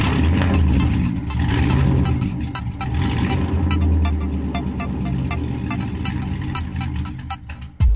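A loud, raw Lexus SC400 exhaust with no mufflers, catalytic converter or resonator rumbles and revs continuously, a deep throaty roar rising and falling close by, with a sharp pop at the end.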